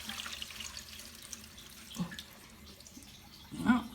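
A household toilet with a newly replaced siphon refills quietly after a flush, giving a steady low wash of running water with a couple of brief louder gurgles and splashes near the end.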